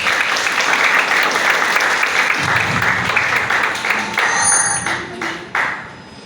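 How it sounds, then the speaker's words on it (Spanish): Audience applause fills a conference hall at a day of talks on ultrasonography of scrotal and testicular pathology, steady and dense for about six seconds before thinning and fading out. "Un fuerte aplauso."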